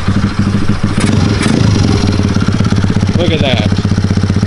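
Pit bike engine, just after intake and exhaust adjustment, starting and running with a loud, close, rapid mechanical putter and some clattering, while someone speaks briefly over it.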